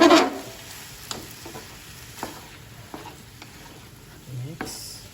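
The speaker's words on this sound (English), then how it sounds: "Now mix it again." Spaghetti sauce being stirred in a frying pan: a quiet, steady sizzle with scattered scrapes and taps of a utensil against the pan, beginning with a louder clatter.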